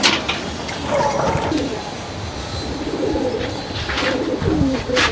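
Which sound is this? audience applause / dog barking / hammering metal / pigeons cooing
pigeons cooing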